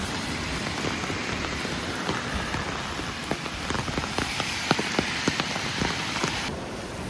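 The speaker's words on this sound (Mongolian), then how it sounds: "Одоо нэг иймэрхүү бороо орж байна." Steady rain falls outdoors in a city setting, a dense continuous patter with occasional sharper drops hitting nearby surfaces, heard alone without talk.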